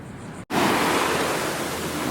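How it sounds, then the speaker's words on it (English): Ocean waves break on a shore in a steady, broad roar of surf, loud and close, with heavy wind-like wash after a brief dropout at the start and no speech. "I feel like it's safe enough because the waves aren't that big."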